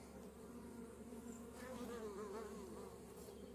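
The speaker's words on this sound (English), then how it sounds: "So the bees just zoom in and they zoom out." Honeybees buzzing around a beehive entrance as they fly in and out, a steady close insect drone with individual bees whining past, continuous throughout.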